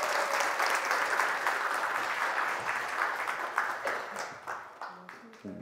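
An audience at a parenting talk concert in Daegu applauds a guest professor being welcomed on stage, with dense clapping that thins into scattered claps at the end and a voice underneath.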